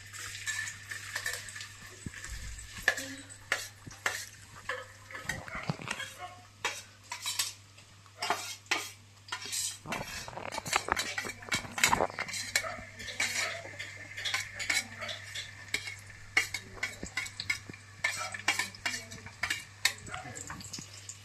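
Onion frying in hot oil and being stirred with a metal utensil in a pan, with repeated scraping clinks and knocks over a faint sizzle, close and irregular, with no talking.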